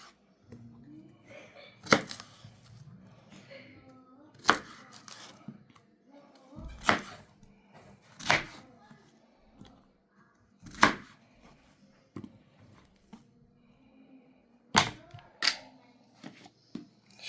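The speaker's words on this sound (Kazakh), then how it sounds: "қолмен ұсақтап турап салуға болады" Knife chopping food by hand on a board while preparing chicken shashlik, sharp irregular thwacks spaced a second or two apart, close and fairly quiet with little else around.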